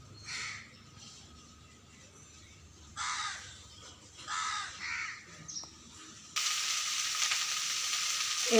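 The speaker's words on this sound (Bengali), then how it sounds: "এখানে ভেন্ডি ভাজা বসিয়েছি, ভেন্ডি ভাজা করছি" Okra frying in a pan gives a bright, steady sizzle that starts partway through and stays loud to the end, after a stretch of crows cawing repeatedly nearby.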